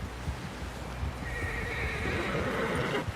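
Horse in the Red Dead Redemption 2 video game, with steady clip-clop hooves throughout and a loud neigh and whinny rising midway, close and clear with no talking.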